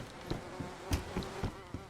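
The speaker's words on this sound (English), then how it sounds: "it looks like all of them have bees in them now" Bees buzz in beehives in a video game, a faint, close, steady drone broken by several short soft clicks and taps.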